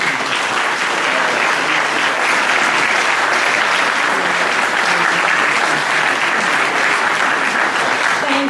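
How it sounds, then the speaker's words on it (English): An audience at a Sacramento Darwin Day science gathering applauds loudly and continuously, a dense, even clatter of many hands clapping close by throughout. "let's all applaud"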